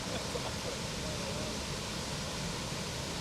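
Water gushes steadily from sewer pipe outfalls along the Scioto River, a constant broadband rushing roar, loud and close, with no break across the whole stretch.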